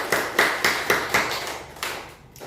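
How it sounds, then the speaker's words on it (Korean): A church congregation claps together in a steady, rhythmic beat of sharp bursts close by, which thins out and fades toward the end. "우리 축복의 박수 한번 올려드리겠습니다"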